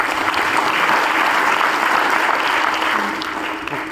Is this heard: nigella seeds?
no